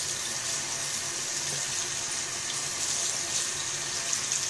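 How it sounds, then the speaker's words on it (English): Running water rinses soap off a gel pad, a steady, fairly loud splashing wash close by that continues without a break. "and then rinse off with water"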